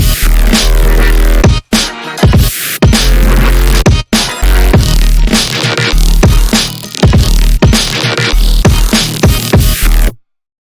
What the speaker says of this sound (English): This is the same saw patch as we saw before, except it's pitched bent